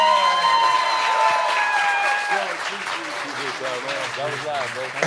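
A comedy club audience applauds comedian LaRoyce Hawkins with dense, sustained clapping and some cheering that fades slightly, while people talk over it.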